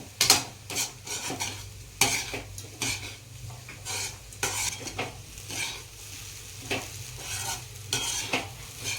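A spatula scrapes and clatters against a pan while tempered millet flatbread stir-fries with spices, irregular repeated metallic strokes over a soft sizzle, close and moderately loud, without talk.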